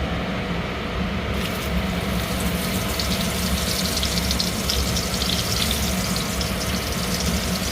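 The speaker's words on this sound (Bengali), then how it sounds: "আগে মাশরুমগুলো একটু ভালো করে ভেজে নেবো।" Mushrooms fry in a pan with a steady, even sizzle that runs unbroken from start to finish, close and moderately loud, with no voices.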